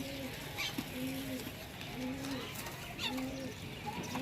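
Pigeons cooing softly and repeatedly in low, rolling phrases, a background of faint chirps and room noise alongside.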